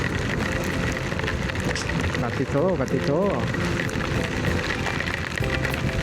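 Heavy rain with big cold drops pours during a drive in a downpour, a loud dense wash of drumming and wind noise throughout while someone talks over it.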